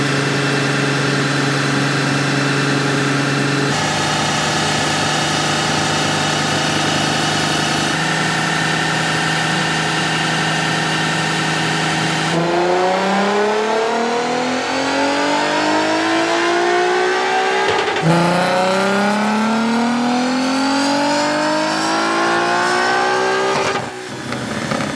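Supercharged Nissan 370Z (Z34) fitted with an unreleased Z1 Motorsports supercharger kit, loud and close, holding a steady idle before revving up repeatedly in rising sweeps, with a final rev near the end; no talking.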